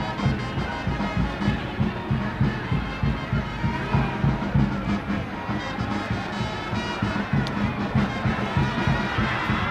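Football crowd in the Vietnam stands during a live Dynamos FC vs Yadah match, a dense, continuous roar of many voices with rhythmic chanting pulses and occasional louder swells, steady and fairly loud throughout.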